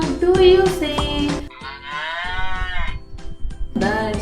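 A human voice imitates a cow mooing in a children's finger-puppet story, giving several drawn-out, wavering moos with short breaks between them.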